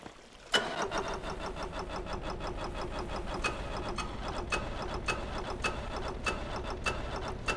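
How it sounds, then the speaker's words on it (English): Model engines spin up through a gearbox with a sudden start, then a steady, loud mechanical whir carrying a rapid regular ticking, like a ratcheting rattle, running evenly to the end. "The right engines are perfectly happy spinning up, but the left ones, not so much."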